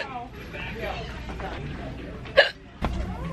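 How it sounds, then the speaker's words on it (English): Someone hiccups twice in a small college apartment, one sharp hiccup near the middle and another just after, faint speech-like sounds around them. "I can't stop hiccups."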